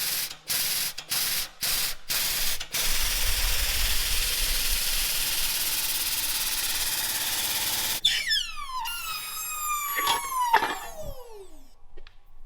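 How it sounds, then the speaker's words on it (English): A Swag Off-Road press brake bends angle iron, with a few sharp clacks first, then a long steady loud hiss. Near the end come rising and falling metallic squeals and a couple of knocks. "We're gonna use our Swag Off-Road press brake, finally, for real life applications."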